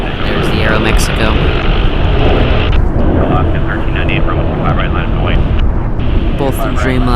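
An Aeromexico Boeing 787-9 Dreamliner at LAX produces a loud, close engine roar that fills the soundscape, while a voice talks over it at points.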